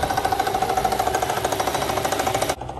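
Mercedes-Benz W220 S600 V12 engine running, a fast steady pulsing mechanical clatter heard close up, even in rhythm, cutting off abruptly near the end.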